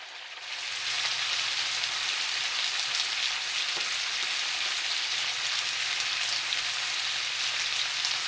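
Potatoes and onion fry in a skillet seasoned with lemon pepper, paprika and black pepper, giving a steady, close broadband sizzle that holds evenly for several seconds with no talking.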